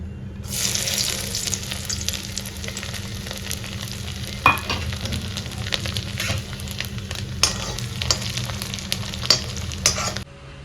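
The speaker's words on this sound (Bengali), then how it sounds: "তেল গরম করে নিয়েছি, তার মধ্যে একটু ঘি দিয়েছি" Grated coconut fries in hot oil with a little ghee, a continuous close sizzle over about ten seconds with occasional scraping taps, then it stops abruptly.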